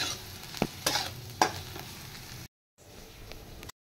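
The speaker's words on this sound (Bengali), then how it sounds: "এবার এটার সাথে এগুলো একটু আমি ফ্রাই করে নেব।" Bread crusts frying in a pan with a steady low sizzle, broken by a few sharp scraping stirs near the start and a brief silent gap midway.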